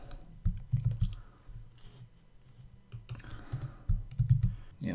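Typing a regular expression on a computer keyboard, bursts of quick close-up key clicks with short pauses between runs, quiet and without talking.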